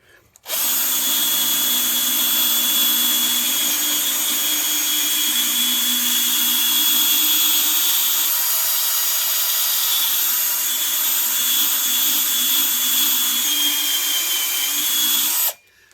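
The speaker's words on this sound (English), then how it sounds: "Maybe we can polish this out so it gets rid of some of that fine scratching." A power tool polishing a metal exhaust tip whines continuously and loudly for about fifteen seconds, a steady high-pitched drone with a faint rubbing hum beneath, starting and stopping abruptly.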